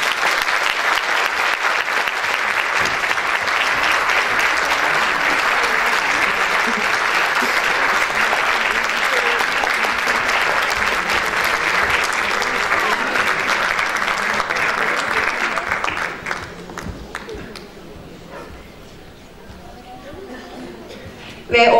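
Sustained applause from a concert audience at a Turkish classical music choir performance, loud and steady for about sixteen seconds before thinning out into scattered claps and quiet room noise.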